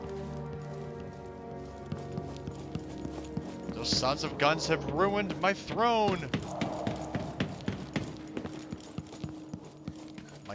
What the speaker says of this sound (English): My footsteps sounded really loud there for some reason.